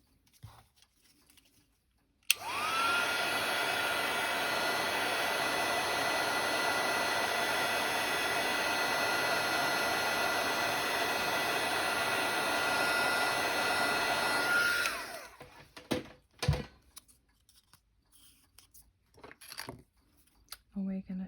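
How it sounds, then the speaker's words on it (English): An embossing heat tool for paper crafting switches on with a click and blows as a steady, loud whirring hiss with a thin whine for about twelve seconds, then cuts off, followed by handling clicks and small movements. "Grab your heat tool."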